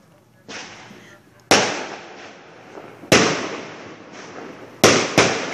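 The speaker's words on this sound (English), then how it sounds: "all my neighbors are blowing off fireworks" Loud firework bangs from neighbors celebrating the Chicago Cubs World Series win, four or five sharp blasts, two coming in quick succession, each trailing off into a crackling, echoing decay.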